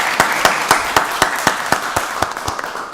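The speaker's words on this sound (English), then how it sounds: "Let's give them another round of applause." Applause at a county board of commissioners meeting: sparse, evenly spaced claps, roughly four per second, close and moderately loud with no voices over them.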